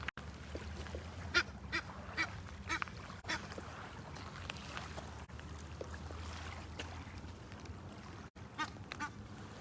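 Ducks quacking in scattered bursts at moderate distance, with some goose-like honks mixed in over steady outdoor ambience near water.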